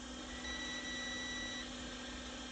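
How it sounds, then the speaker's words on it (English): A multimeter beeps once with a thin, steady tone of about a second while testing for a short in the charging section of a Huawei P8 Lite 2017, over a constant low hum. "multimeter will beep on one way, means that the short is gone"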